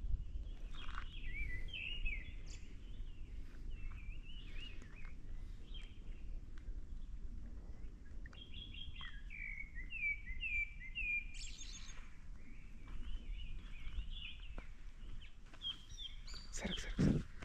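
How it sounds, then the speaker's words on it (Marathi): Birds sing and chirp throughout a hill-station outdoor scene in Mahabaleshwar, with repeated bright warbling phrases and tweets over a steady low background rumble, fairly close and continuous, no talking. "पक्ष्यांच्या नादात फिरतोय तो"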